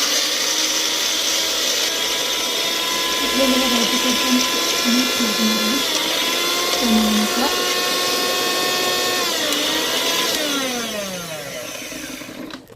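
An electric kitchen mixer grinds washed fenugreek leaves, a loud sustained whirring whine that shifts pitch as the blades load and then winds down at the end, with someone speaking briefly over it.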